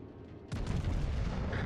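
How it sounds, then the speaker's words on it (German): Warship guns fire in a World of Warships naval battle, a single heavy broadside boom that stays loud and rumbling after a quieter background hum. "Ja, ich habe geschossen"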